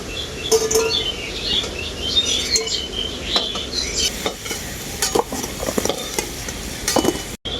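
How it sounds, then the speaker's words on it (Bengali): Potatoes fry in hot oil as a spatula stirs them, making a steady close sizzle broken by frequent scraping and clattering strokes, with faint bird chirps outside. "আলুগুলোকে আমি খুব ভালো করে ভেজে নেব"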